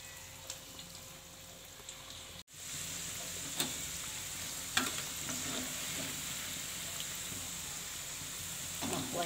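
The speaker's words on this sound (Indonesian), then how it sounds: "kita lanjut goreng bakwan" Leftover bakwan vegetable fritters fry in hot oil with a steady close sizzle, occasional crackles and pops, after a brief quieter start.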